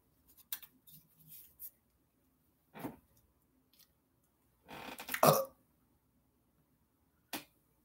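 A single loud burp rises out of a quiet stretch, with a few small clicks and short noises scattered before it and a sharp tick near the end.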